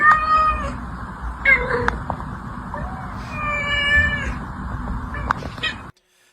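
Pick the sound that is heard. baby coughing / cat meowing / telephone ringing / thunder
cat meowing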